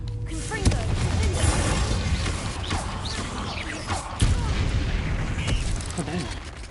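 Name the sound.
Confringo blast spell explosion from the video game Hogwarts Legacy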